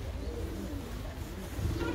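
Pigeons in a coop giving low, soft cooing calls, a steady murmur of several birds close by with no talk over them.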